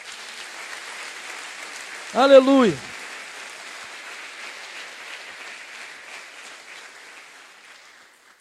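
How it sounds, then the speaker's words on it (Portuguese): A church congregation applauds in praise during a sermon, a steady wash of clapping that fills the whole stretch while one voice briefly calls out near the start. "Dê uma salva de palmas a Ele."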